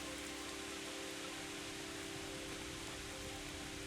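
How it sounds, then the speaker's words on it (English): Steady rain in the video game Kingdom Come: Deliverance hisses evenly, a dense continuous wash of drops, moderately loud with no voices. "And it's still pissing down rain."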